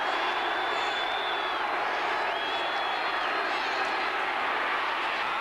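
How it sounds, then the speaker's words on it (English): A packed football stadium crowd roars for the Dallas Cowboys defense during the 1982 playoff game against the Packers, a loud, steady wall of yelling that holds throughout. "the crowd starts yelling for that defense"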